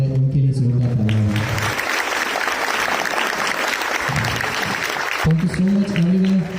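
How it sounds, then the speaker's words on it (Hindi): Applause from a class audience at an onsite coding class, a steady broadband clapping wash for several seconds, with voices heard before and after it. "इनके लिए जोरदार तालियां"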